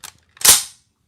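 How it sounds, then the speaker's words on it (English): An M1 Garand en bloc clip seats into the rifle with one sharp metallic snap that follows a faint click. The snap is close and loud, with nothing after it. "We'll go ahead and put the M block clip back in."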